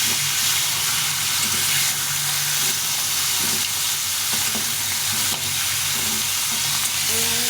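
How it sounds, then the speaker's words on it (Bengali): A fish, likely a head for a moong dal dish, fries lightly in a pan, sizzling and spitting loudly and continuously with scattered crackles and pops throughout, no talk. "মাছটা খুব একটা কড়া করে ভাজবো না"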